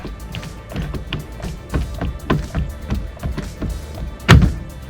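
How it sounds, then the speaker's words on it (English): A Subaru STI steering wheel is rocked side to side on its column, making a series of close, irregular knocks and rattles that end with a louder thunk as it comes loose. "rock the steering wheel side to side"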